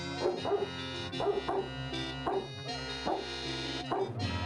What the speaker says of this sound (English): We're gonna talk to her dog.